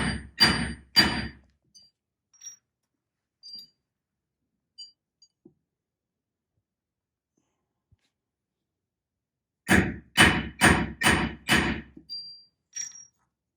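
Silver plate struck with a hammer on a thick cottonwood stump, two quick bursts of several sharp close blows each, a brisk group at the start and a longer run of five or six after a quiet pause.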